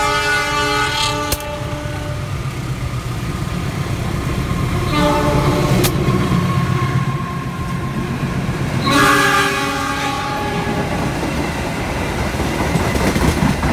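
A passenger train passes at Blimbing station in Indonesia, heard alone with loud, steady rumbling and wheel clatter, and a long horn blast sounding near the start, again around five seconds and again near nine seconds.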